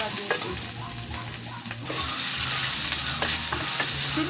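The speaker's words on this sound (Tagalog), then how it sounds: "Prito na natin yung sangkap ng ating spaghetti" Spaghetti sauce ingredients fry in a pan, a steady loud sizzle with occasional scrapes and stirring clatter, heard up close with no talking.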